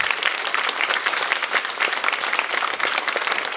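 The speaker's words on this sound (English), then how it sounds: "So can we give them one last round of applause?" A conference audience in the South Bay applauds its panelists with dense, sustained clapping that fills the room evenly from start to finish, with no voices rising above it.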